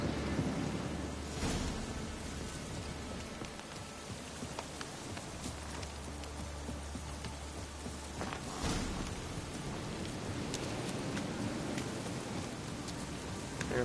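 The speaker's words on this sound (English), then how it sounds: "Looks like rain." Steady rain with rolling thunder in The Witcher 3 video game, a constant wash of rainfall broken by deep rumbles, one early and a louder swell near the middle, with no voices.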